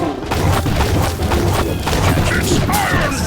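Musket tower volleys in the Kingdom Rush video game, loud repeated bursts of gunfire and booming impacts rolling continuously with game effects and shouted battle cries layered on top.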